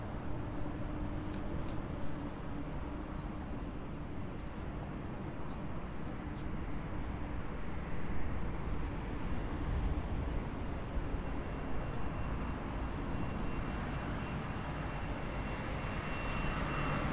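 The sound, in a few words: KLM Boeing 737 taxiing to runway at Munich Airport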